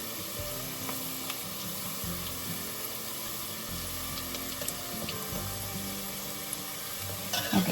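Hush puppies deep frying in hot oil for a Southern catfish fry, a steady dense sizzle with small crackles and pops running evenly throughout, no talking.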